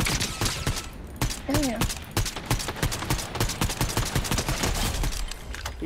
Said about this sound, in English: I can't even see that guy shooting you.